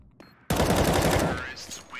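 Rapid automatic gunfire from a gun in an online shooter video game erupts abruptly and continues as a dense, loud burst of shots, then trails off near the end.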